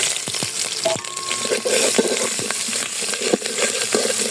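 Onions tipped into hot oil with browned five-spice seeds for lentil khichuri, frying with a busy steady sizzle broken by scraping stirs and clinks of the spatula, close and alone.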